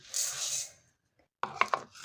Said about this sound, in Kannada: ಒಂದು ಪಾತ್ರೆ ತೊಗೊಂಡು ಅದಕ್ಕೆ ಎರಡು ಕಪ್ ಅಕ್ಕಿನ ನಾನು ಹಾಕೊಳಕತ್ತೀನಿ ರೀ